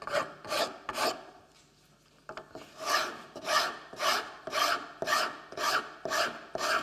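Homemade toothing plane fitted with a hardened hacksaw blade scraping across a wooden board, rhythmic raspy back-and-forth strokes, close and crisp, a few quick ones, a short pause, then a steady run of about eight even strokes.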